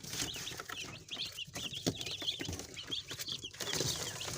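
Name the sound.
day-old Agric chicks chirping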